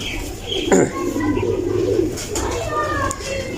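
Pigeons coo in a loft with breeding hens, soft throaty calls repeating through the clip while someone speaks over them close by.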